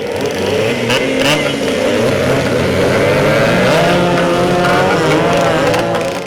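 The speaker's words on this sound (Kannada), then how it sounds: "ಪುಟ್ಟ ಗ್ರಾಮದಲ್ಲೂ ಅಬ್ಬರಿಸುತ್ತಿರುವ ಡರ್ಟ್ ಬೈಕ್ಗಳು ರೇಸ್ ಬೈಕ್ಗಳ ಸೌಂಡ್ಗೆ ರೋಮಾಂಚನಗೊಂಡ ಗ್ರಾಮೀಣ ಜನತೆ" Dirt bike engines roar and rev loudly and continuously, close by, at a village fair race in Chikkodi, Belagavi district, their whining drone rising and falling together.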